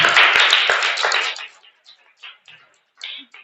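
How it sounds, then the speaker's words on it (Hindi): A group of children in a government primary school classroom clap together in a loud, dense burst that fades after about a second and a half, followed by scattered faint taps and small sounds. "ताली बजाइए एक बार इनके लिए"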